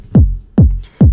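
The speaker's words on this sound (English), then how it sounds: "We've got this kick, which is from the pack that I previously mentioned." Thumpy kick drum sample for a UK garage track, struck three times at a steady pace, each hit a deep booming punch that decays quickly, loud and dry with nothing else playing.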